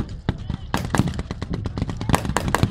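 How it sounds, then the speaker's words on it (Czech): Rifle and firecracker-like blank gunfire crackles along the front at a WWII battle reenactment, a rapid irregular string of sharp near and distant shots. "Palba je nyní vedena v podstatě po celé délce fronty."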